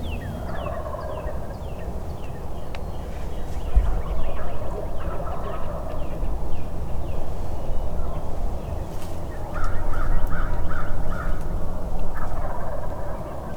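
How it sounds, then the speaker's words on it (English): Wild turkeys gobble at dawn on a cold morning in the woods, repeated rolling gobbles at a moderate distance over a steady outdoor hum, several birds calling in bursts. "the birds are starting off gobbling pretty good here"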